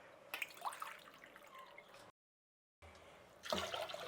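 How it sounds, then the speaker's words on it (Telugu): Two cups of water are poured into a pressure cooker holding lentils for sambar, giving splashing and dripping with a brief silent break midway and a louder gush near the end. "దానికి 2 కప్పులు నీళ్ళు వేస్తున్నాను"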